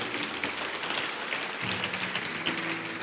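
Church congregation clapping during a sermon, a dense, steady wash of hands heard at moderate level and somewhat distant, with no voices over it.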